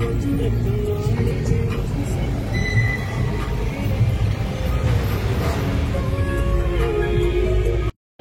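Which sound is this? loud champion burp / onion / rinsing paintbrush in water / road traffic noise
road traffic noise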